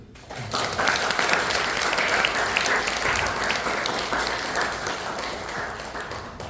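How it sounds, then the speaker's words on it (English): Audience at a Parents of the Year award event giving sustained applause, a dense, even roar of many hands that swells quickly and stays strong for several seconds before easing slightly. "let's give them another round of applause."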